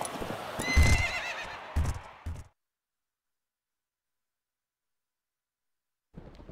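Racehorses whinnying loudly with hooves clattering on the track, a short burst of neighs and thuds that cuts to silence before a brief return of hoofbeats.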